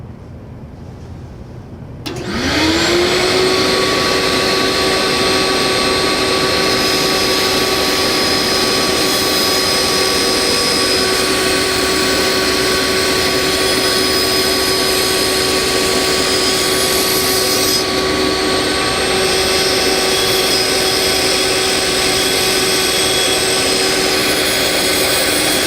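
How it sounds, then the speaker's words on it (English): A bandsaw runs steadily, cutting excess material from both ends of a wooden zero clearance insert for a table saw, giving a loud continuous whine with sustained tonal hum that starts abruptly after a quiet moment and holds throughout. "I'm going to take this to the bandsaw and remove the excess material on either end."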